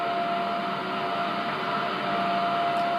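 A steady hiss of radio static carries a constant faint tone, a continuous shortwave time signal broadcast from WWV or WWVH on 15 MHz with no speech audible.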